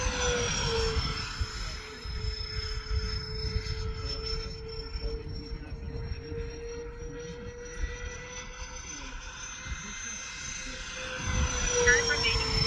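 Freewing A-10 radio-controlled jet with an E-flite electric ducted fan, flying at just under half throttle, a sustained whining fan tone that slowly shifts pitch as it passes, heard from a distance over wind noise.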